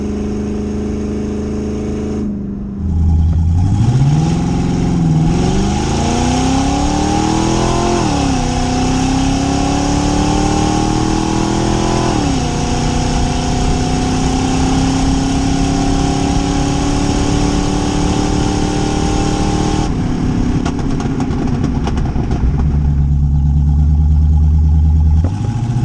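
A carbureted TH350-swapped C4 Corvette on a test hit, the V8 rumbling at idle then revving hard through climbing gear pulls, roaring loud and close for a long stretch before dropping back to idle.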